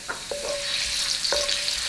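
Shredded ginger stir-fried in hot oil in a wok, a steady close sizzle with two sharp scrapes of the spatula against the pan, no voices.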